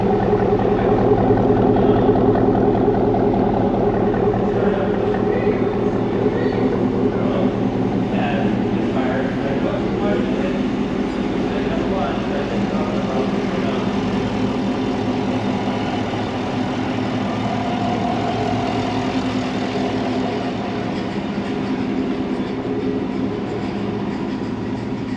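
A cammed 2017 Cadillac Escalade 6.2 LT V8 with a Corsa exhaust idles on first startup, a steady, loud, unbroken rumble with people talking faintly underneath.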